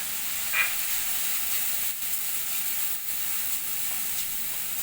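Turmeric, chili and coriander powder sautéing in hot oil for dhaba-style garlic fenugreek greens, a steady bright hiss and sizzle with a faint clink near the start, no talk.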